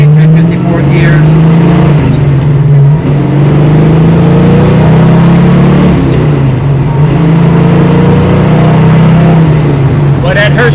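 An AMC Hurst SC/Rambler with a 390 V8 from the AMX go package and a 4-speed cruises along, its engine giving a loud, steady, close rumble with slight rises in revs throughout.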